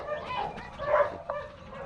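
A greyhound at a Florida racing kennel gives a couple of brief, faint whining yelps over a quiet, noisy background.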